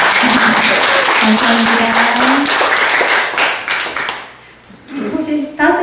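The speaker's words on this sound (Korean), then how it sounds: "아버님한테 박수 한번 보내주세요" A lecture audience claps loudly and steadily for several seconds, the applause fading out before a voice speaks briefly at the end.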